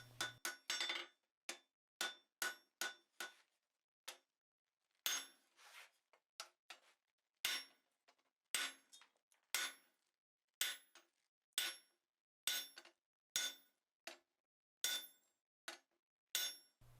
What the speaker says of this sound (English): just give it a tap with your hand hammer and that's all you need to make the surfaces smooth